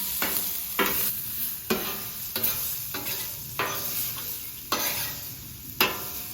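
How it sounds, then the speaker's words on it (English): Zucchini seasoned with garlic powder, salt and pepper stir-fried on a flat top griddle: a steady sizzle broken by about eight sharp spatula scrapes at irregular intervals, close and alone. "Stir fry these up."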